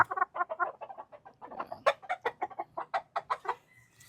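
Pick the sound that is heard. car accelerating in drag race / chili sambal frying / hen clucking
hen clucking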